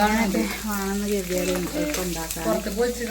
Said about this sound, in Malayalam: അണ്ടിപ്പരിപ്പ് ഒന്ന് ഇതിൽ വറുത്തുകൊണ്ട്